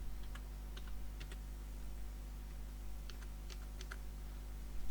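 Keystrokes on a computer keyboard as a folder name is typed, faint scattered clicks in short bursts over a steady low hum.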